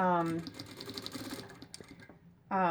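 A sewing machine runs in a short quick burst, a rapid mechanical chatter stitching forward and back over face mask elastic, with someone talking just before and after it.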